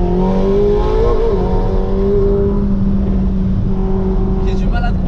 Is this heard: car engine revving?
yes